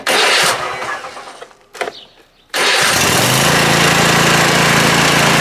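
A lawn mower engine runs loud, then sputters and dies abruptly when its safety kill switch cuts it off, leaving a brief near-silence before the engine restarts and settles back into a steady close roar.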